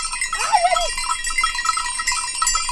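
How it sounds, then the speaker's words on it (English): Goats crossing an Alpine pasture: one clear bleat rises and falls early on, over a steady, even clanking of cowbells that carries through the whole stretch. "Bunch of goats taking us across the Alps."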